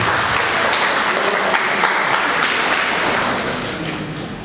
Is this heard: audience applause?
yes